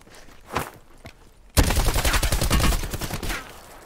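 A dense, rapid burst of close automatic gunfire in Call of Duty: Blackout, loud rhythmic cracks following a couple of quieter distant shots and a brief lull.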